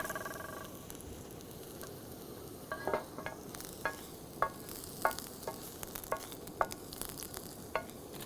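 Worms and garlic frying in a pan sizzle softly and steadily, with a series of sharp clicks and scrapes from stirring scattered through it, close up and with no talking.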